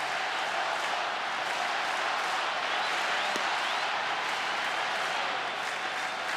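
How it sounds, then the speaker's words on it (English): A baseball crowd at a Cardinals versus Pirates game at Pittsburgh cheers and applauds in a dense, sustained wash of clapping that holds at an even, fairly loud level throughout. "here comes the crowd"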